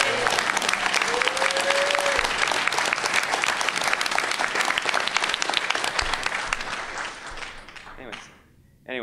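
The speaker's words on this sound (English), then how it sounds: "So a big round of applause for Alex." A big round of loud, dense applause from the audience at a voice-actor panel of a brony convention, with cheering mixed in, fading out near the end as talking resumes.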